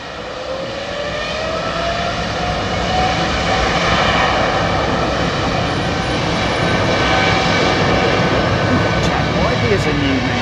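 Jet airliner engines at Heathrow Airport swell in the first seconds into a loud, sustained roar with a faint rising whine threaded through it, steady to the end.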